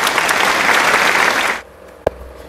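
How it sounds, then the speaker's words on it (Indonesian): Classroom applause from students at a junior high school, a loud, dense burst of clapping that stops abruptly, followed by a single sharp clap. "Silakan beri aplaus."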